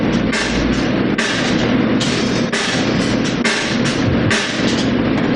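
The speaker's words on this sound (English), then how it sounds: "that's the sound of the chain underneath the snare" A snare drum with a chain lying on the drumhead plays repeated hits, each followed by a bright, buzzing rattle of chain against the head, steady and close.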